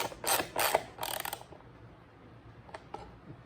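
Ratchet wrench clicking as it snugs bolts on a new plastic front fender of a 1979 Yamaha 100MX two-stroke motorcycle, with several close bursts of rapid ratcheting followed by a pause and a few lighter clicks.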